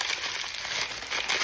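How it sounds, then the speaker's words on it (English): Crinkly crackling of a pre-cut parchment paper sheet being crumpled by hand, a close, continuous rustle lasting a second or two. "If you crumple it up like this,"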